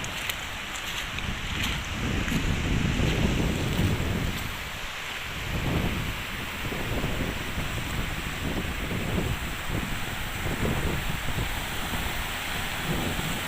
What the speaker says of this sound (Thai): คลื่นแรงมาก